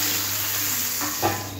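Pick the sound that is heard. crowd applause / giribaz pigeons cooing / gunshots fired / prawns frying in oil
prawns frying in oil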